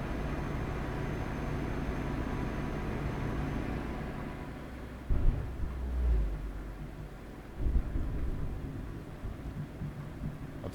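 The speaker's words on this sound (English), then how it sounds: "That's thunder." Thunder in the Euro Truck Simulator video game, heard from inside a Renault truck cab: a couple of deep, muffled rumbling booms roll in over the steady engine and road drone.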